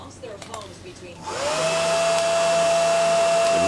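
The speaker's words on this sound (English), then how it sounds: "to a thrift store hair dryer." A thrift store hair dryer clicks on and spools up into a loud, steady whirring blow with a high whine that holds constant to the end, after a few soft handling knocks.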